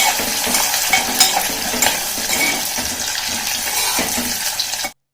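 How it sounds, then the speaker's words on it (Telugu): Chopped onion and green chilli pieces fry in a pan with a loud, continuous crackling sizzle, broken by a few stirring scrapes, running unbroken until it cuts off abruptly just before the end. "ఒక్క నిమిషం పాటు ఇలా ఈ ఉల్లిపాయ పచ్చిమిరపకాయ వేగనివ్వండి"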